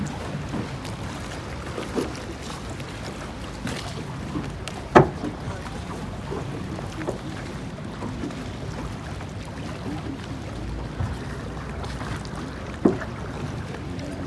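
A traghetto gondola on a Venice canal, crossing with a rower steering at the front and another pushing at the back, gives steady faint water lapping and swishing, with a few sharp knocks of the oar and soft background chatter.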